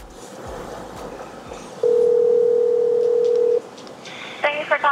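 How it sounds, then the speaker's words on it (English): A Pixel 5 on speakerphone places a call, a steady dial tone holding for about two seconds, followed by quick electronic ringback or tone bursts near the end. "I'm about to make a phone call on speakerphone right now so you can hear it for yourself."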